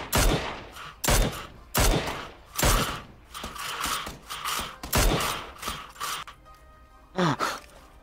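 Gunfire in PUBG on Xbox One: several loud, irregularly spaced shots and short bursts, separated by brief gaps, ending with a final sharp report.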